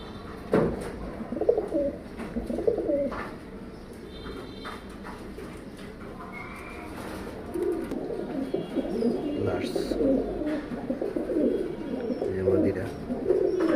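A pair of jira gola pigeons, a male and a female, cooing repeatedly at close range under steady background noise, with someone talking intermittently.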